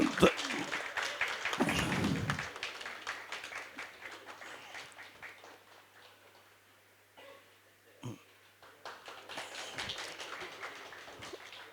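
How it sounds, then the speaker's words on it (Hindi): Applause at a book launch event honoring a guest fades from moderate clapping into near silence. Scattered claps and a brief thump follow, and a voice speaks quietly over the later part. "तालियां बजती रहें जितने लोग हैं।"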